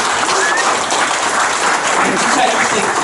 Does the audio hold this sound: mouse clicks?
no